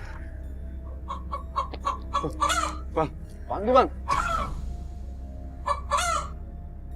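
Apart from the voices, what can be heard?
chicken clucking and rooster crowing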